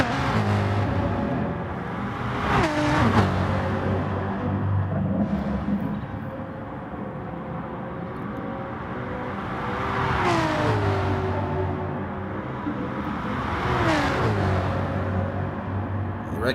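Super 2 race cars battle on the Autopolis short course, their engines revving and whining in long rising and falling sweeps as they pass. The sound is distant and steady, with no one talking over it.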